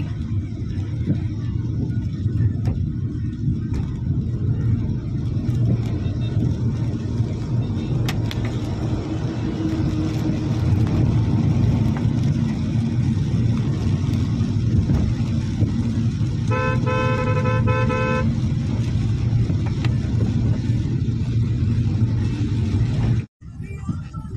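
Busy Mumbai road traffic on a rainy day, with a constant rumble of passing cars and a clear car horn honking once partway through, plus faint voices in the background.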